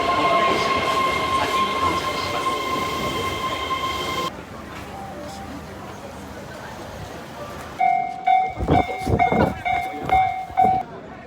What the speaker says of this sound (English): I'm getting the subway to that now.